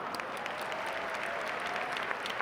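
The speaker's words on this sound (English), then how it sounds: "time for some applause" Audience applause at a formal dinner as the yellow dais is introduced: steady, dense clapping from a large room, moderately distant and unbroken throughout.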